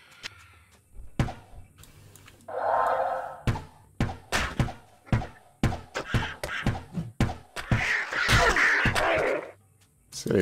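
Video-game birds caw harshly in the rocky wastes of Diablo 2 amid repeated heavy thunks of melee combat, a dense rhythmic series of hits with bursts of noisy flapping and cawing.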